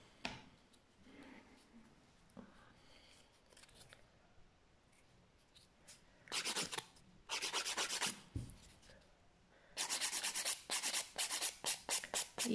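A hand file rasps across polygel acrylic gel nails in a reverse French manicure, in short bursts of quick back-and-forth strokes that grow steadier and more rhythmic, close up, after a quiet stretch.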